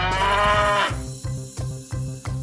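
Cattle moo in a series: one long, loud low call followed by four shorter, evenly spaced moos, all close and with no talking.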